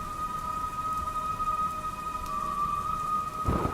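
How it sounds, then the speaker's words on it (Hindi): Steady rain patters continuously with a constant hiss, a faint tonal hum running underneath and a brief rustle near the end. "बहुत तेज बारिश।"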